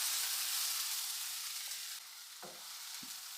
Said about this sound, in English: cook this for at least 3 minutes. Let the tomato get cooked.